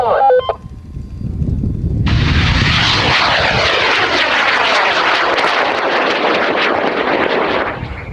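A model rocket on an M1419 motor roars off the pad after a brief countdown beep, its loud sustained rushing thrust filling the air for several seconds before slowly fading as it climbs away.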